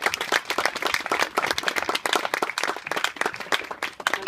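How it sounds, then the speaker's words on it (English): An audience at a school performance applauds in a dense, loud, continuous burst of clapping that lasts a few seconds. "Give a massive round of applause for this."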